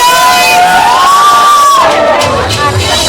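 A loud crowd cheers, applauds and lets out high whoops and shouts at the Bhool Chuk Maaf film trailer launch event. The roar is continuous and close, with excited yells rising over it.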